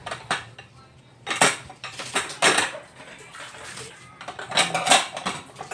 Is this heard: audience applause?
no